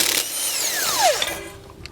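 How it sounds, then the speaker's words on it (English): Power tool with a 9/16 socket backing out the bolts on a trailer brake assembly during a Hydrastar brake kit install on a 2020 Grand Design Momentum toy hauler, a close whirring spin that winds down in pitch. "We're going to take a 9/16. We're going to remove the 5 bolts holding"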